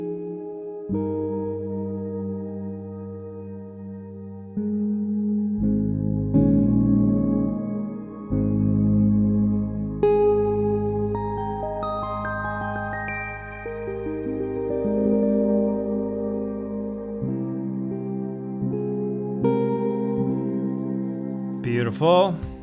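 An instrument plays sustained tonal chords through a lush Soundpaint reverb, and the notes bloom and linger into long tails. Near the end there is a brief pitch sweep.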